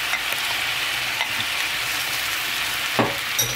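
Rinsed tofu frying in oil in a pan, a steady close sizzle with light scattered pops and a couple of utensil knocks toward the end.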